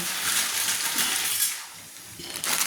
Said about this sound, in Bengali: দেখুন চাউমিনটা আমি সেদ্ধর জন্য ঢেলে দিলাম।